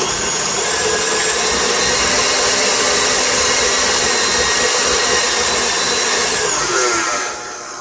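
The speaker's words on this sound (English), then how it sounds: "So we're going to go ahead and mix our bananas in." Electric hand mixer blending mashed bananas into paleo, gluten-free banana nut bread batter, a loud, steady whirring motor drone running continuously for several seconds before cutting off near the end.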